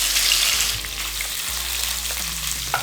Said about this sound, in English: So I'm going to sear this off, this beef,